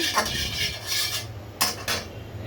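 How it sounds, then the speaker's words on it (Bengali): A metal pan is set down on a kitchen stove before cooking river rohu fish, giving a couple of light clanks and scrapes close by with no talk. "একটা প্যান বসিয়ে দিচ্ছি।"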